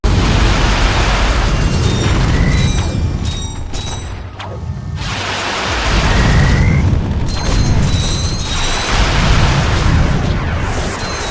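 The Rhino weapon in Ratchet and Clank (2002) fires heavy, booming explosions in quick succession, with loud deep blasts and bursts of debris, one slight lull midway, then more repeated detonations.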